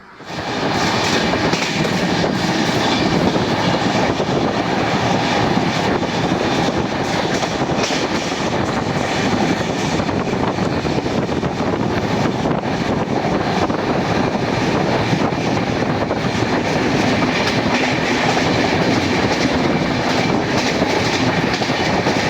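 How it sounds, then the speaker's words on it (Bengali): Loud, continuous rumble of the Gour Express slowly pulling away along the rails, with a rhythmic clatter of wheels, steady and close, no voices. "সিগন্যাল গ্রিন হয়ে গেছে, ট্রেনটা আস্তে আস্তে রান নিচ্ছে"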